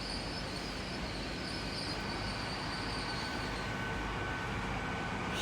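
Passenger train passing through Exeter St Davids station, a continuous loud rolling rumble with high-pitched wheel squeal running over it, steady throughout.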